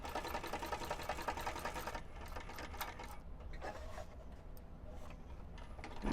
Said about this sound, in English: go across the bottom with that same seam allowance that you did at the bottom of this seam, and back stitch still